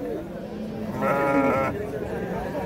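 A sheep bleats once at a livestock market in Jany Nookat where sheep and goats are traded: a clear, wavering bleat of under a second, close by, with people talking around it.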